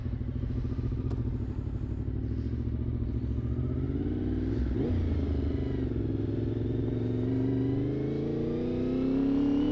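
A Honda VFR 750 motorcycle with about 300,000 km on it is ridden with a loud, continuous engine drone whose pitch climbs and settles as it revs, heard close and alone.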